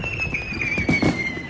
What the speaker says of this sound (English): Fireworks bursting in the night sky.